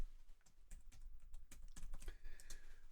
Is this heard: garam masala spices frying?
no